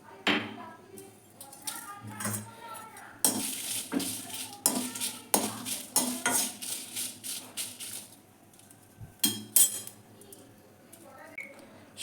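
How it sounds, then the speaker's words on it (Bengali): Dry red chillies fry in a wok on a gas stove while a metal spatula scrapes and clinks against the pan in irregular bursts, with a faint sizzle underneath and a voice talking now and then. "এবার প্রথমে আমি শুকনো লঙ্কাটা দিয়ে দেবো।"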